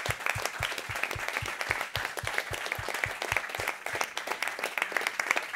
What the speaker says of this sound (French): on les applaudit fort, on vous applaudit aussi